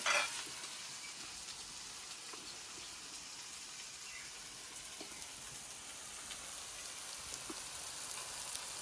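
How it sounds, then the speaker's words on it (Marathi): Onion and tomato sizzle steadily in a pan as turmeric is added for a Konkan-style kalvan curry, a continuous close frying crackle with faint stirring ticks throughout and no talking. "कांदा टोमॅटो आता मस्त पोळलेला आहे. आता मी त्याच्यात टाकते हळद"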